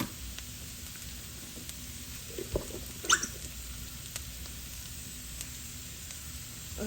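Salted Bombay potatoes cooking in a pan, a soft steady sizzle with occasional small pops and crackles standing out near the middle, fairly quiet and without voices.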